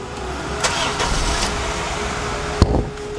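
Third-generation Honda CR-V engine starting: a loud close crank that catches and settles into a steady idle hum, with a sharp click partway through.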